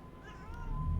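A single short cat meow, faint and close, rising slightly at the end over a low background hum.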